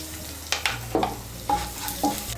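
Bay leaf, two dried red chilies and asafoetida hit hot oil for a tempering, giving a steady close sizzle with a few sharper crackles and clinks as the spices drop into the pan.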